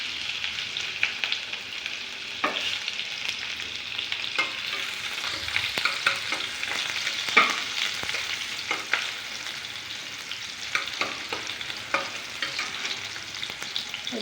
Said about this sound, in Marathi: यात थोडासा कढीपत्ता टाकून घ्यायचा आणि एक कांदा याच्यात परतून घ्यायचा थोडासा